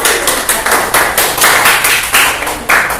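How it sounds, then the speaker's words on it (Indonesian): A class in a classroom claps for a student group. Their hand claps are close and loud and come in a quick rhythmic pattern of short bursts rather than loose applause. "Tepuk tangan untuk kelompok 2."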